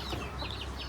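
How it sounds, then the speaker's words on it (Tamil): Chickens in a temporary coop in a home garden give brief, close clucks over a steady outdoor background. "டெம்பரரியாக வந்து ஒரு கோழி கூண்டு வச்சு அந்த இடத்துல வந்து கோழி வளர்த்துறோம்"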